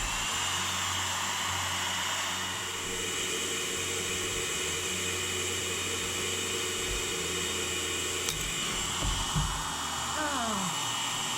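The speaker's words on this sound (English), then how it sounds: "let's heat it up right here and see if it comes loose" A hot air gun blows steadily on a cracked Disney Sorcerer's Apprentice snow globe to loosen it, a continuous close whooshing hiss with a faint click and brief shuffling near the end.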